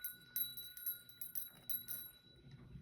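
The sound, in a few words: bell ringing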